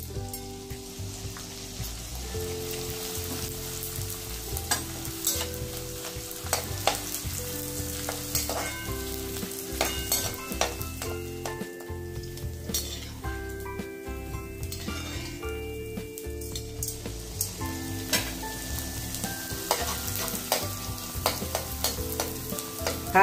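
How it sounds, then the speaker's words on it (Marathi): Edible gum frying in hot ghee for methi ladoo crackles with a loud, steady sizzle and frequent stirring scrapes, with background music playing underneath throughout. "आता आपण डिंक तळून घेऊया।"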